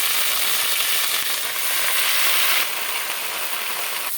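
Mint leaves sautéing in hot oil in a pan for a ginger-garlic-mint-coriander chutney, a steady close sizzle that stays even throughout, with no talking.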